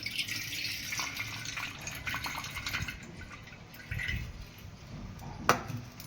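Soaking water from swollen, soaked lentils is poured off into another vessel, a soft, uneven trickle and splash close by, with a brief louder clink near the end.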